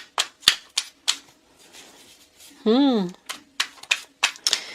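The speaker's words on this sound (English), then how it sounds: "Y'all might have to fast forward through the shuffling" Quick bursts of riffling and slapping card noises come in uneven clusters, with a person speaking briefly in the middle.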